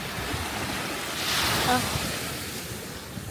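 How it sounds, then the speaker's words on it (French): Ocean waves break on a Corsican shore in strong wind, a continuous close surf wash that swells into one louder surge midway, with wind buffeting the microphone and a brief voice exclaiming. "les vagues, elles montent presque jusqu'à nos pieds en fait"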